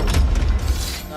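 A brief Confringo spell explosion from the Hogwarts Legacy video game bursts out as a short, dense blast with a low rumble, loud and close, fading quickly.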